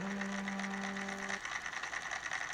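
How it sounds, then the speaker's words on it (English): A foot-controlled sewing machine motor spins a guitar pickup winder, giving a steady high whirring hum with a brief lower tonal whine at the start, close and unaccompanied. "I put it on a foot controlled sewing machine motor onto the winder"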